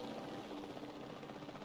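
Faint, steady rotor chop and whine of a helicopter in the video game Jurassic World Evolution 2, continuous and distant-sounding, with no voices.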